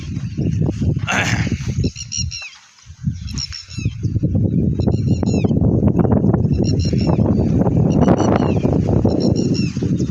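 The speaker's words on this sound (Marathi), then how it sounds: "सोनेरी बदकं या तळ्यामध्ये आहेत आणि पोहत पोहत चाललेले आहेत" Golden ducks swimming on a lake in Mitki, Sangli district, give repeated honking, quacking calls in bursts over a steady outdoor rumble, moderately close.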